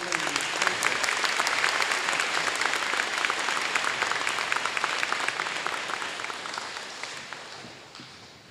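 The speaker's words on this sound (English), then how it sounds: "I want you to give them a round of applause" Audience applause at a Harrison Park scholars event, a full room clapping steadily and loudly, the dense patter holding even before easing off toward the end.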